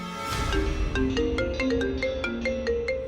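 A mobile phone ringtone plays a bright, repeating electronic melody of quick tonal notes, loud and close, with no voices.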